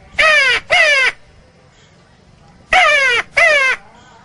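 A man imitates a mountain crow's caw: two harsh, loud caws in quick succession, a pause, then another pair of caws.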